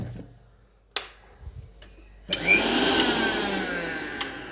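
After a few clicks and knocks, a mixer grinder whirs to life with a steady, loud buzzing hum that keeps running.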